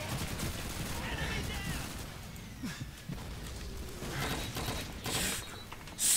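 Grenades burst amid dense gunfire in the Call of Duty 2 video game, a loud, continuous wash of crackling shots and thumps with a sharp blast near the end, while a voice talks over the fighting.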